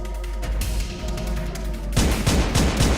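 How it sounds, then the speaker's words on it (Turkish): Rapid video-game gunfire rattles on, quieter at first and then bursting into a louder, dense barrage of repeated shots in the last second, with no voices. "Bak nasıl sıkıyor ya. Mermisi de bitmiyor."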